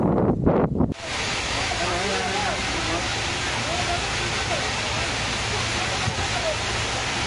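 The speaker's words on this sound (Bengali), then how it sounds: "আর বিদ্যাধরী এখানে বেশ চড়, জলের ঢেউও বেশি, সাথে প্রচণ্ড বেগে বাতাস।" Strong wind buffeting the microphone over rough, choppy water on the Bidyadhari river in the Sundarbans, a continuous loud roar of wind and waves after a brief opening burst.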